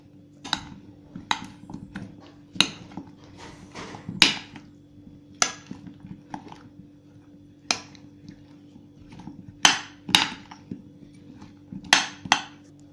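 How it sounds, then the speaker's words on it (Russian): Boiled potatoes are tossed into an aromatic herb sauce in a bowl, giving irregular sharp clinks and knocks of a utensil against the dish over a faint steady hum, with no talk. "Отправляем картофель в наш ароматный соус. И все хорошо перемешиваем."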